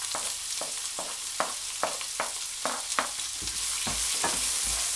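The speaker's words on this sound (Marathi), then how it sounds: "त्याच्यामध्ये मी आता ह्या हिरव्या मिरच्या टाकणार आहे आणि लगेचच आपण कांदा टाकायचा आहे" Green chillies and onion frying on a tawa for spicy prawn masala, a steady bright sizzle with about a dozen regular stirring scrapes and taps, the hiss swelling louder toward the end.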